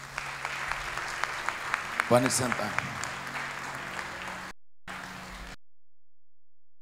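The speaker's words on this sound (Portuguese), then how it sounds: "Uma salva de palmas." Congregation applauding in a church during a thanksgiving celebration for a pastoral couple's tenth wedding anniversary, a steady wash of clapping with a voice speaking over it before it cuts off.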